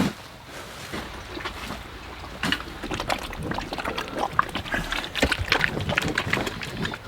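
Farm pigs grunt and snuffle over a steady rustling, shuffling background that grows busier and louder toward the end.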